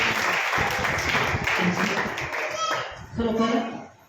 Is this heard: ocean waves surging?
no